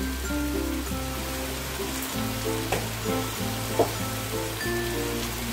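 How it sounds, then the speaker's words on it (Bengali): Khichuri ingredients with turmeric, salt and spices fry in a pan, giving a continuous close sizzle with a few small clinks and stirring knocks. "দিয়ে মশলাগুলোর সাথে ভালো করে কষিয়ে নেব।"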